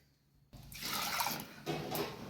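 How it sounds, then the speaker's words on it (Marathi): After a quiet start, water splashes and swirls as split pigeon-pea lentils are rinsed in a bowl, with a second burst of sloshing toward the end. "तुरीची डाळ एक वाटी घेतलेली आहे मी तीन पाण्याने स्वच्छ धुवून घेते"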